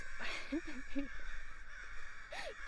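Crows cawing outdoors, several harsh calls in quick succession and a closer call near the end, with a steady background of traffic or wind.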